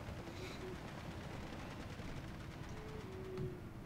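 Distant automatic gunfire and battle noise from a World War II strategy video game crackle as a dense, steady, low rumble of rapid shots, faint and continuous, with no talking.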